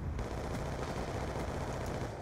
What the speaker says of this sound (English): I really like this gun. It's accurate and it's fast at shooting.